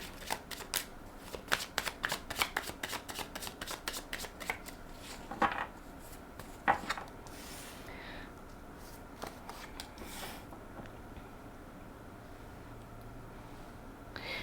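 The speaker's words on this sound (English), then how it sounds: "So let's pull now a card" Tarot cards are shuffled close up, a run of quick crisp riffles and slaps that thins out into sparse flicks and then fades to quiet room tone.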